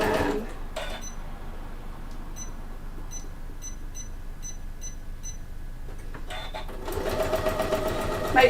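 A sewing machine stitches a fabric bag, running steadily for several seconds with a faint regular ticking over its hum, with brief handling noises at the start and a louder burst of fabric handling near the end.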